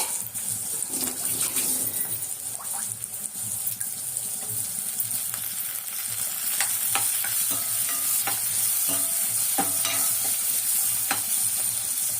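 Garlic, small native onions and curry leaves fry in hot oil in a home kitchen for a kuzhambu, giving a loud, continuous sizzle broken by scattered stirring scrapes and clicks throughout.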